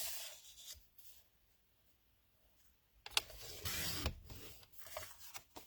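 A paper trimmer slices craft paper. Quiet sliding and rubbing are followed by a louder scraping cut of about two seconds and some light handling noise, close and alone.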